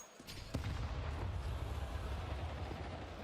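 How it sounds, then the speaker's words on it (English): A frag grenade explodes in a Counter-Strike match on the Nuke map, a sharp blast followed by a heavy, rumbling low roar that lingers for several seconds. "a frag grenade in your face"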